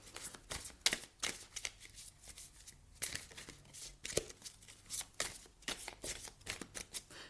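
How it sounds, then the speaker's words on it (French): Alana Fairchild oracle cards are shuffled by hand, a close, crisp series of riffling and slapping bursts in an uneven rhythm, with no talking over them. "Je vais vous tirer une carte des ailes de la sagesse d'Alana Fairchild."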